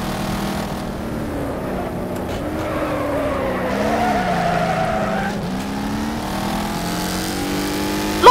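Race cars roar around a track in Wreckfest, engines rising and falling in pitch as they accelerate, with tire skids and squeals mixed into the loud, continuous racing noise.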